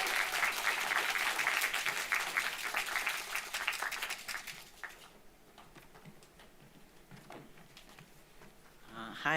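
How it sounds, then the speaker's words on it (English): A screening audience at a thesis event claps in a dense, lively burst for about five seconds, then the applause drops away to a quiet room with faint stray sounds. "If you hear those annoying clapping noises, it's our group."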